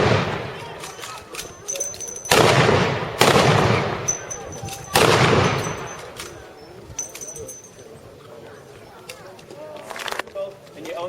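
Heavy gunfire booms out at a war reenactment weekend, several loud, reverberant blasts spaced a second or so apart from early machine-gun era weapons, with people talking and birds cooing in between.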